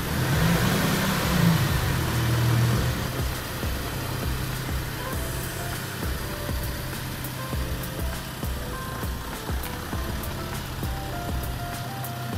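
A car pulls away after a nanotechnology protective paint treatment, its engine droning and revving over a steady rumble, with a reversing beep early on before the vehicle fades into distant traffic noise.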